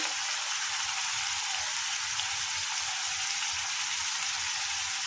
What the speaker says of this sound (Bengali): এটা আমার যদি ভাজা হতে হবে ভালো করে মশলাটা যদি ঠিক করে না ভাজা হয় তাহলে কিন্তু ভালো লাগবে না